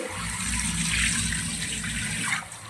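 Salt-soaked food rinsed under a running tap, a steady close gush of water splashing into a sink that carries on throughout and then eases off near the end, with no voices.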